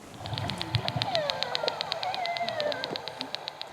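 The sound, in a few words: orca echolocation clicks underwater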